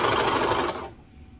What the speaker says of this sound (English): so you do have to kind of sew blind with the cover stitch